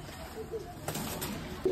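Pigeons being hand-fed coo softly in short, low murmurs, with a faint brief flutter nearby during a quiet moment.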